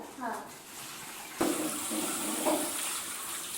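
Mango leaves rinsed under running water for a household prayer; a soft voice-like sound comes first, then a steady close gush of water starts abruptly and keeps flowing to the end.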